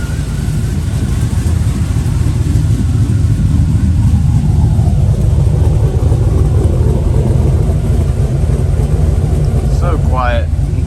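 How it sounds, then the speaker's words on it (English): A Corvette engine runs close and loud with a steady, dense low rumble throughout, with a brief rising tone near the end. "So quiet until you rev it up."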